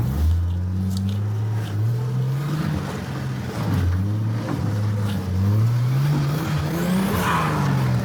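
A Traxxas RC turbo Jeep Wrangler drives off-road with a loud, continuous motor whine that rises and falls as it accelerates and eases off, alongside scrabbling and rushing noise from the terrain.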